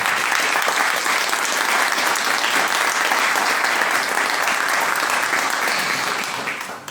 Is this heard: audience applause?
yes